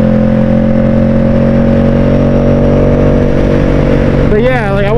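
Ducati Streetfighter V4 motorcycle engine running loud and close with a steady drone, then revving sharply near the end with rising and falling pitch.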